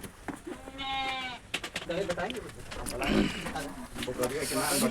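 A goat bleats in a quick wavering cry near the start, followed by other animal calls and noisy outdoor village sounds, with people talking throughout.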